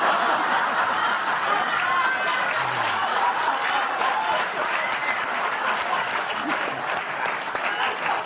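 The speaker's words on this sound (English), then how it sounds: "Oh, keep clapping." A television studio audience claps loudly and continuously, mixed with scattered laughter and crowd murmur, sustained for several seconds without a break.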